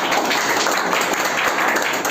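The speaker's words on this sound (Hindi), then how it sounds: "मैं चाहता हूं जो ताली स्वागत करें" An audience at a class 10 quiz competition claps to welcome the quiz team. The applause is dense and continuous, filling the room at an even level with no voices.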